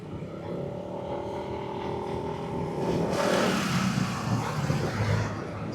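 A Modenas Elit 150S motorcycle rides at night along a dark road, its engine a steady close drone that swells louder partway through amid rushing wind noise.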